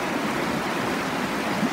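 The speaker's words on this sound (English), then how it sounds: "where the water runs" Fast, turbulent mountain river water rushes down through Glen Shee in the Cairngorms of Scotland, a steady, loud, broadband roar of churning flow with no pauses.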